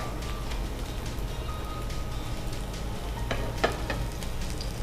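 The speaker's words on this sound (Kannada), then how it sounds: "ಒಂದು ಸೈಡ್ ಅದು ಸ್ವಲ್ಪ ಫ್ರೈ ಆದರೆ ಸಾಕಾಗುತ್ತೆ" Paneer tikka frying in a pan gives a steady, close sizzle over a low background rumble. Faint clinks from turning the pieces come through near the end, with no talking.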